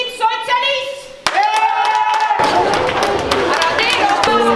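An audience claps and cheers at a festive anniversary show, the applause swelling after a tonal opening and staying loud and dense to the end, with music and voices mixed in.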